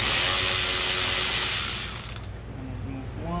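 A ratchet works on size 20 Torx bolts holding the master window switch bezel panel of a 2008–2012 BMW 528i, giving a loud, continuous, close-up mechanical whir for about two seconds before it drops to a quiet background.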